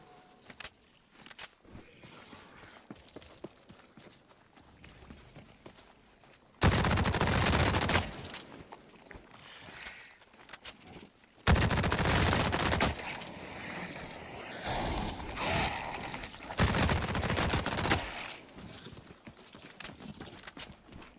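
Gunfire in The Cycle: Frontier shooter game, several loud bursts of rapid shots separated by quieter stretches of movement and ambient game noise.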